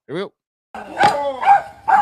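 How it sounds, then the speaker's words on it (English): A dog barks close by in several sharp, loud yelps spaced about half a second apart, after a short opening yip, with a voice briefly heard among them. "You can hear this dog. This dog means business."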